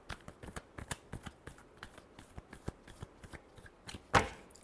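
Tarot cards are shuffled in a quick run of crisp riffling slaps, close and fairly soft, ending in one louder sharp snap.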